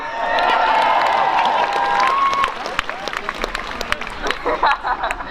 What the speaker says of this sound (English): give Leeds a cheer too